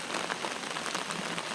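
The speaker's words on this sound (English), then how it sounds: "So this heavy rain, out of all this water that it has dumped out and is running off" Heavy rain pours down steadily during a storm in downtown Loganville, a dense, continuous hiss and patter of water on surfaces with no pauses or voices.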